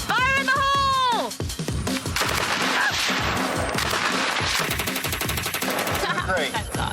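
A gun fires in rapid bursts at a car, dense, loud repeated shots with sharp metallic impacts and a chirping rising tone at the start, with a voice talking under the gunfire.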